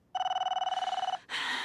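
An old-style telephone bell rings in a rapid, steady trill for about a second, then cuts off into a brief burst of brighter noise; loud and close, with no talk.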